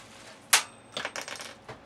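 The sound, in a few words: transportation screw slipping out and dropping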